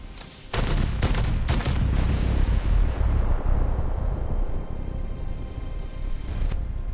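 A sci-fi pulse rifle in tachyon mode fires three rapid sharp cracks, then one big blast booms and rolls off into a long decaying rumble, loud and close.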